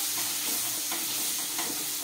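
Potatoes fry in a pan as the base for a brinjal curry, giving a steady close hiss and sizzle with faint stirring ticks, no voice over it.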